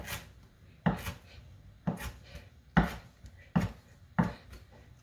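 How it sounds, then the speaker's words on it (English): Knife chopping cilantro on a cutting board in a home kitchen, crosswise to the earlier cuts: five or six sharp, separate knocks about a second apart, close and moderately loud, alone without talk. "I just kind of turn it around and chop the opposite, like the perpendicular direction"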